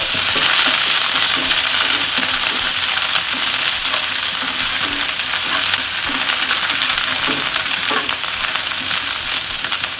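Crushed ginger, garlic and chillies are stir-fried in hot oil, giving a loud, continuous crackling sizzle with repeated stirring scrapes throughout and no voices.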